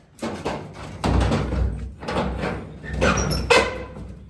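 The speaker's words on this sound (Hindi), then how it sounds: "चल चल बंद कर दे दरवाजा बंद कर दे।" An indoor door is pushed and shut, giving a series of close sliding scrapes and heavy thuds, with a sharper bang near the end.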